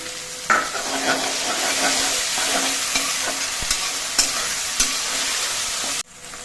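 Ginger, garlic and chili paste frying with onions in a pan for a mutton curry, a loud continuous sizzle with occasional scraping stirs and clicks, close up, cutting off near the end.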